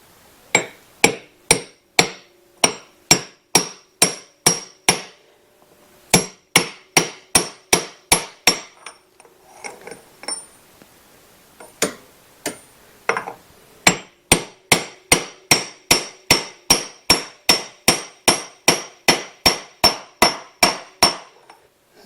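Sharp metallic hammer strikes tapping a socket to seat a seal on a Polaris Sportsman ATV, in fast steady bursts of a dozen or more blows with brief pauses between, close and loud, no talking.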